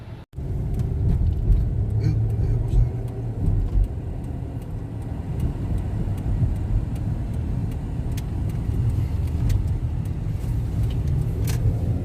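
A car interior on the move after grocery shopping at a Panda supermarket in Unayzah, with a steady low engine and road rumble throughout and a brief bump near the start.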